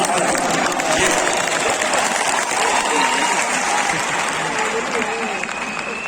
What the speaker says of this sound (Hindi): बीच बीच में तालियां बजाते रहे ताकि मुझे भी उत्साह